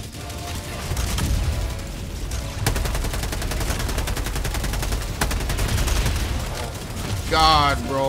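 Rapid gunfire rattles in the Helldivers 2 video game, loud sustained bursts of automatic shots layered with explosions, while someone talks excitedly over the fighting.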